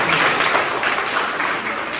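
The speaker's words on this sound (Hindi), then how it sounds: "तो जोरदार तालियां गा दो भाई जी।" Children applauding together for a pencil sketch shown to them, a steady dense wash of clapping that stays loud and even for its whole short length.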